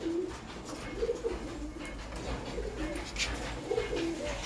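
Pigeons cooing softly in repeated low, throaty calls while pecking at grain in their loft, with a steady background rustle and hiss and faint scattered clicks.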